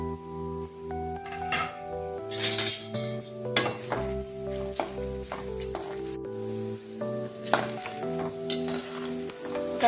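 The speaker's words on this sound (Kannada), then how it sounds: "ಪುಟಾಣಿ ಹಾಕತ್ತೇವೆ." Roasted gram and peanuts stirred in a pan for chivda, a Diwali snack, with light dry scraping and clinking of a spoon against the pan in an uneven rhythm over faint sizzle and background music.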